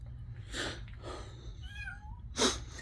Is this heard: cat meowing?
yes